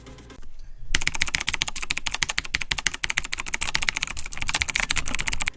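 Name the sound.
typing on Razer green switches, Razer Blackwidow Chroma keyboard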